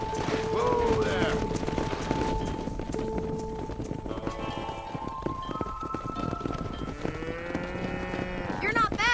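Cattle herd mooing in the Red Dead Redemption video game, with several drawn-out moos from cows near and far over a steady bed of hooves, shuffling and ambient game sound, with brief talk mixed in.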